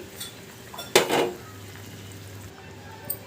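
Fried okra pieces tipped into a pot of simmering tamarind stew, giving one short clatter and splash of pan and utensil, with faint kitchen rustling before and after.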